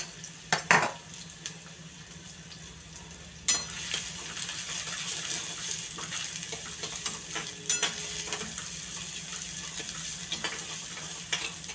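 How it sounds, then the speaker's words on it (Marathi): Onion sautéing in a pan for a vegetable dish, with a soft steady sizzle, a low hum underneath and occasional sharp clinks and scrapes from stirring, close by. "आता त्याच्यामध्ये कांदा कांदा टाकून घेतला आहे हे कांदा टाकला आणि कांदा आहे ना चांगला परतून घ्यायचा"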